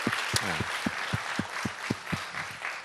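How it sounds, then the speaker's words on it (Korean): A church congregation claps in steady unison for the choir conductor, regular evenly spaced beats of about four per second over a broad murmur of the gathered crowd in a reverberant hall. "우리 늘 수고하시는 집사님을 향해서 감사의 박수"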